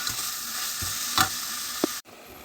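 Plenty of onions and pepper sauté in a pan for spaghetti sauce, giving a close, steady sizzle with spatula scrapes and stirring knocks before the sound cuts off abruptly.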